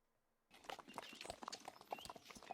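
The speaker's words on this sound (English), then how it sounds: "I've just got trotting, so we're gonna have to just deal with trotting sounds" Horse trotting sound effect: rapid, even hoof clip-clops on a hard surface, starting abruptly after a short silence and continuing at a steady rhythm, fairly close.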